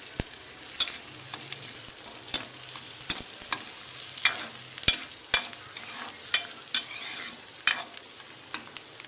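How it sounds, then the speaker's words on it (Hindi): Onions sauté in hot ghee in a pan, a steady close sizzle broken by frequent scraping stirs in an uneven rhythm, with no voices. "प्याज को सोते करके इसमें फिर अदरक लहसुन डाल लूँगी।"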